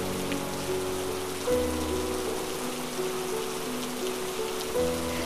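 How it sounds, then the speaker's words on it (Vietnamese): Steady night rain on the highlands falling alone, a soft, even patter with faint tonal hum in the background throughout. "Mưa đêm nữa rồi"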